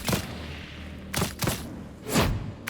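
Gunfire from the Mark II weapon in the Darktide video game, several heavy booming shots in short bursts with trailing rumble, loud and close.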